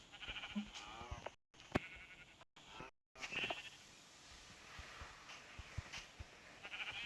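Sheep bleat faintly at a distance several times amid a noisy, shuffling background with brief dropouts.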